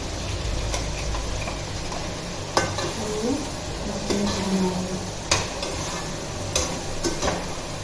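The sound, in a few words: masala frying and being stirred in pan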